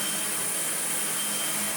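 A 2005 Sebo Felix Classic upright vacuum cleaner runs on carpet with its brush roll spinning, giving a steady, loud, close whine and airy roar that holds level throughout without a break.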